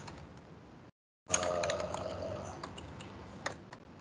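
Fingers typing HTML code on a computer keyboard, a close, steady patter of key clicks starting after a short silence, with a few louder taps standing out.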